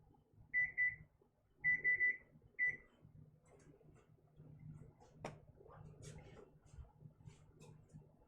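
A kitchen timer is set while a bone-in pork loin roast cooks, with three quick bursts of high electronic beeps, followed by quiet kitchen rustling and a few faint knocks.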